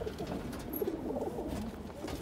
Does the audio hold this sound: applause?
no